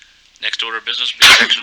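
A single sharp sneeze bursts out near the microphone during a city planning and zoning meeting, right after someone speaks into the mic in a quiet room.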